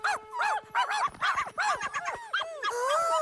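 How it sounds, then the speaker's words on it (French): Puppies in a cartoon yap and whimper in quick high-pitched bursts, a rapid run of overlapping yips and barks sounding close and lively for a few seconds. "Les bébés chiens!"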